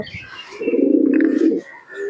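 A teddy pigeon at a pigeon sale gives one loud, close, drawn-out coo lasting about a second, with softer bird sounds around it.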